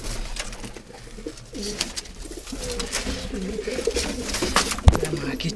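Pigeons coo in low, repeated throaty bursts amid a busy, noisy background, with a sharp knock near the end.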